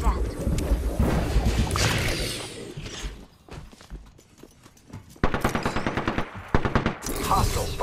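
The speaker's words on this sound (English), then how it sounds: "The enemies are shooting at me" Rapid machine-gun bursts and single gunshots crack through a sci-fi shooter battle, dense at first, then a lull before a hard, evenly spaced volley and renewed fire; game voice lines and talk run over the shooting.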